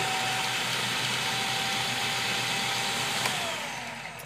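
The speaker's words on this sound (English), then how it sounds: "you notice how really quickly it actually chopped up that garlic" A Cuisinart food processor chops garlic with a steady, even motor whir that holds close and loud, then begins to wind down in the last second.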